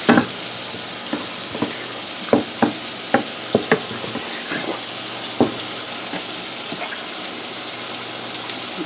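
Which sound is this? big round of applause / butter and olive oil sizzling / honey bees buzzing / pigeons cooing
butter and olive oil sizzling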